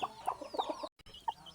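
A broody hen set on eggs clucks in short, close bursts, a few low murmured notes with a brief pause before another cluck.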